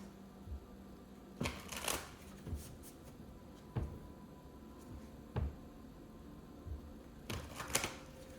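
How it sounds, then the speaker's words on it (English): A deck of tarot cards being shuffled by hand in a quiet room, in several separate bursts of riffling and flicking spread through the stretch, fairly close and soft, with no talking. "A couple more shuffles."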